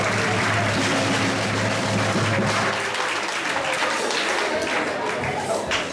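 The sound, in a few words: audience applause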